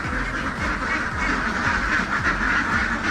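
A flock of domestic ducks quacks constantly while drinking at a newly built poultry farm, many overlapping nasal calls forming a dense, close chorus.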